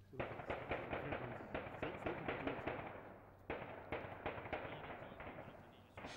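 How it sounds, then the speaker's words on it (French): Rapid bursts of gunfire crackle almost continuously at an embassy, sharp repeated reports in dense clusters with a short lull midway, moderately distant. "Les coups de feu reprennent au sein de l'ambassade."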